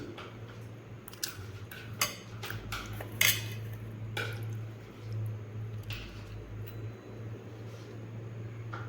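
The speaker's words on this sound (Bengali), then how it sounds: "ডালগুলোতে আমি একটু জল দিয়ে নিচ্ছি ডালগুলোকে আমি একটু ভালোভাবে ধুয়ে নেব" Pigeon pea lentils washed in water in a metal bowl or pot, close clinks and scrapes of the vessel with wet shuffling and splashes, busier early then quieter, no voices.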